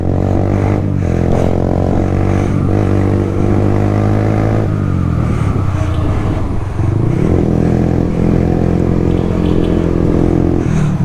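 A motorcycle engine runs loud and close throughout, holding a steady idle with rising and falling revs and a brief dip before picking up again, with no clear talk over it.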